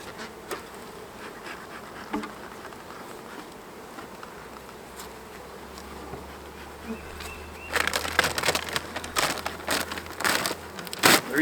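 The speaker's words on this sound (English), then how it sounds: "Lots of bees up here." Many honeybees buzz around a hive in a dense, continuous hum, growing busier and louder near the end with crackling rustles nearby.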